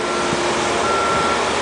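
A modern dump truck levelling sand on a beach gives a steady, loud reversing alarm tone over a continuous engine rumble.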